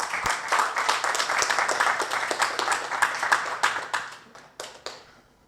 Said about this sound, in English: let's thank Shandor in a big round of applause